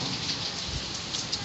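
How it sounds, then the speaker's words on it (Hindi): Torrential storm rain pours down amid cold wind, an unbroken roaring patter of drops on surfaces with occasional louder splashes nearby. "तूफ़ानी बारिश इतनी तेज़ हो रही है"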